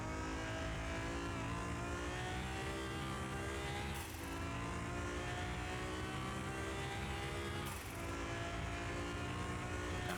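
A 900HP Nissan GTR R35 in Car Mechanic Simulator 2021 holds a steady, loud engine roar at speed through a corner, dipping briefly twice as the throttle eases, with no voices over it.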